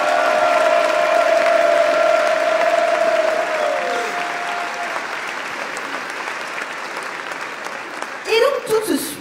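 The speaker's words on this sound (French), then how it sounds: "On l'applaudit bien fort, Sid." An audience at a Nintendo cosplay contest claps loudly and steadily, with some cheering. The applause gradually tapers off, and a brief voice cuts in near the end.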